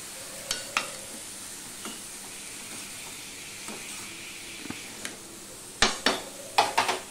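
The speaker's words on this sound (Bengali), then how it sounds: "অল্প অল্প করে ওই সবজিগুলো দিয়ে দেখো ফোড়নটার সাথে আমি ভালো করে মিশিয়ে দিচ্ছি।" Vegetables tossed into hot tempering spices for a Bengali vegetarian labra sizzle steadily while a spoon stirs them, with sharp scraping clatters of the utensil against the pan growing louder toward the end.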